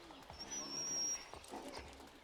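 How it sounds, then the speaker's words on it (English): In Assassin's Creed III, a dog whimpers and gives a thin, high whine in brief bursts, with soft game ambience and a voice speaking over it. "hello doggy."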